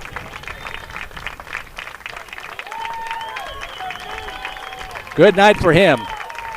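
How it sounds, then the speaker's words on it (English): A crowd applauds at a high school baseball game between the Vandegrift Vipers and Cedar Ridge, a moderate, steady clapping under an announcer's voice on the public address. "Round of applause."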